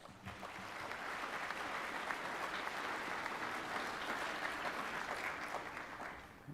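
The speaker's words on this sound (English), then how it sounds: "So let's give them a round of applause." Sustained applause from a banquet audience at a student-of-the-year awards dinner honoring students, a steady, dense wash of clapping that holds evenly for several seconds at moderate distance.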